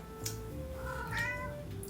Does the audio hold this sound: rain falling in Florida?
no